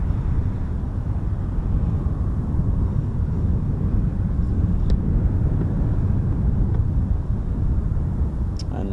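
A C-17 transport aircraft takes off from Mildenhall, heard as a steady, heavy, broadband engine rumble that holds at an even loudness from start to end, with no voices over it.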